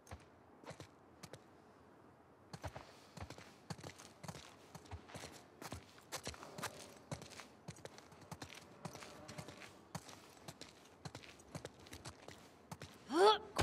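Horse hooves clip-clopping at a walk in The Last of Us Part II, a quiet, irregular series of soft hoof steps with faint background ambience and a brief louder sound at the end.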